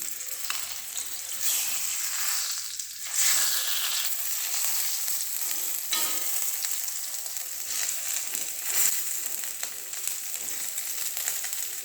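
Parotta fries in ghee with a steady, close crackling sizzle, broken by occasional stirring scrapes and clicks, with no talk.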